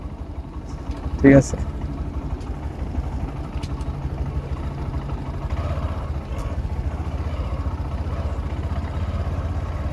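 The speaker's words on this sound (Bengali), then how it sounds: "এখন আমি ফার্স্ট গিয়ারে চালাচ্ছি একদম স্লোলি" New motorcycle idling and creeping along slowly in first gear, a steady low engine drone running throughout with a brief louder burst near the start and a short spoken question over it.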